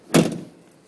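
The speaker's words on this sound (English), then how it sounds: "Sliding doors on both sides." A single solid thud of a 2004 Nissan Serena's sliding door closing, close by, with a brief rumbling tail and no talk.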